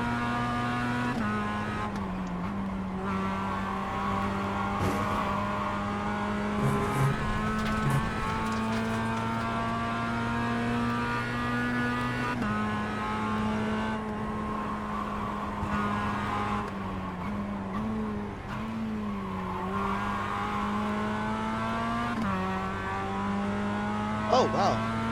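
Race car engine in the iRacing video game, a steady high whine that shifts pitch with gear changes and throttle over a long stretch, with occasional brief tire squeal and faint background sounds.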